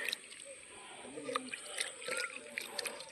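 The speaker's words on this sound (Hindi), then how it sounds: "इसे पानी से धोएंगे," Small fish being rinsed by hand in a bowl of water during cleaning, with soft sloshing, dripping and trickling throughout, close and fairly quiet, no talking.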